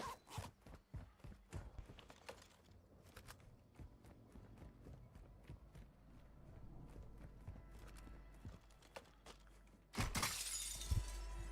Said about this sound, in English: Did you just break glass?